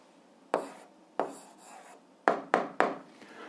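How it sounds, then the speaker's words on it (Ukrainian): A pen writes an algebra answer by hand on paper, heard as close scratchy strokes: a few separated scribbles followed by a quicker run of three sharp marks, with no talk. "Тоді записуємо відповідь, пишемо відповідь."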